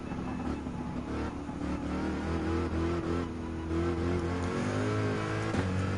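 A BMW M6 GT3 Sprint race car in Gran Turismo 7 roars steadily throughout, its engine note rising and shifting as it accelerates through gears, loud and continuous with no talking.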